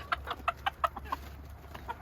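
Chickens eating cabbage cluck in short, quick bursts, about nine soft calls in two seconds over a low steady hum, close by with no talking.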